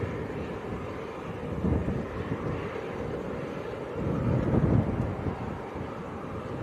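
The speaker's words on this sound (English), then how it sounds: "it's quite windy" Gusty wind buffets a microphone outdoors at Leeds Bradford Airport, a constant low rumbling roar that swells in two stronger blasts, with no clear voices over it.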